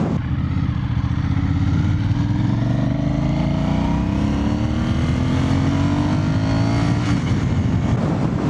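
An Aprilia Shiver 750 motorcycle engine droning steadily while riding on a rain-mode setting, pitch slowly rising and falling as it accelerates, close and continuous.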